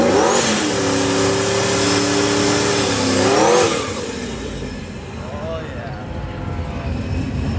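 A no-prep drag race car's engine revs loudly and steadily with harmonic tones, then drops to a lower, rougher idle after a few seconds, with voices talking over it.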